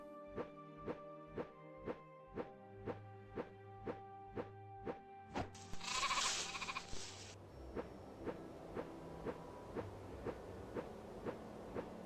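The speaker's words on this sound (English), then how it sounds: "I want to catch all the sheep in this farm" Sheep bleating in a farm video game, a steady series of short, evenly spaced bleats, about one per second, loud and close, with a brief burst of noise partway through and no talking.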